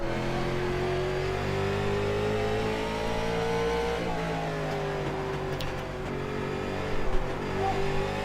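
A Late Model race car in iRacing runs at Concord, its engine drone loud and steady at high revs with slight pitch dips and rises through the corners. The engine stays close throughout, with no voices.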